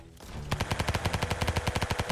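Rapid automatic fire from an MP40 submachine gun in the WW2 battle game Ancient Warfare 3, starting after a brief quiet lead-in and continuing as a steady, evenly spaced burst of loud, close shots to the end.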